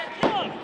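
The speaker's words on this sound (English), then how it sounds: "High back body drop sends him right down into the center of the ring" A wrestler is slammed onto the center of the ring mat by a high back body drop, making one sharp, heavy thud in a brief moment with a commentator's voice running over it.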